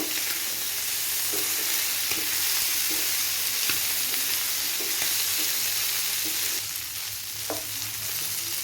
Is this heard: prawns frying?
yes